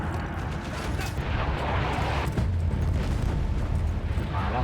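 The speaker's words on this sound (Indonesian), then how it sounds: "Malah meledak anjir." Field cannon blowing up in the World War I shooter Battlefield 1, a dense, loud rumbling boom that rolls on continuously with heavy low-end, crackling debris and battle noise throughout.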